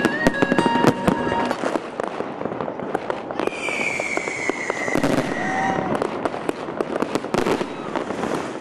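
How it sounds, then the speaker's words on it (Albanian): New Year fireworks over Skanderbeg Square in Tirana: a steady barrage of sharp cracks and booms, some whistling rockets rising, with crowd noise in the background throughout. "Fishek zjarri që të bëjnë të harosh të ftohtin dhe të mendosh për një tjetër vit që po vjen."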